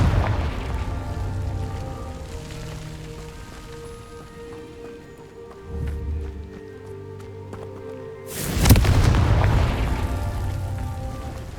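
A Confringo spell explodes in Hogwarts Legacy, a sudden loud blast with a crackling rumbling tail late in the clip, after quieter low thuds and ambient game sounds.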